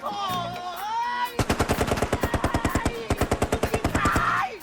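Rapid automatic gunfire from the video game Kane & Lynch 2: Dog Days rattles in loud, evenly spaced bursts after a brief tonal opening, with one short pause between strings of shots.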